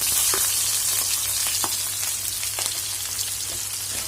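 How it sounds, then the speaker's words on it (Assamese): Onions sizzle and fry in hot oil with mustard seeds and dried red chillies, making a steady close crackle with scattered pops throughout and no talking. "ইয়াত দিছোঁ মই পিঁয়াজ"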